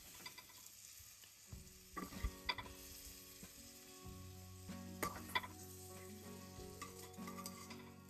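Paneer sautéing in a pan, a quiet continuous sizzle broken by scattered clinks and scrapes of a spatula against the metal, close and faint, no voices.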